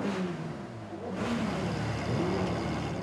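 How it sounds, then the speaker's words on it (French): Car engines rev loudly at a funeral, sent off by friends from a car club, with several overlapping rising and falling engine notes sustained throughout. "Les copains de leur club automobile font retentir leur moteur pour les accompagner une dernière fois."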